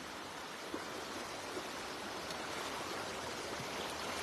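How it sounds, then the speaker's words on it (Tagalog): A strong river current rushes in a constant, even hiss of flowing water, steady and somewhat faint, with no talking over it. "ang lakas ng agos talaga"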